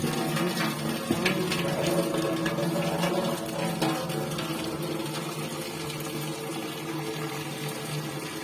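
Water splashes and trickles steadily as it is poured off through a strainer while making sarson ka saag, a continuous gushing wash with a low mechanical hum underneath.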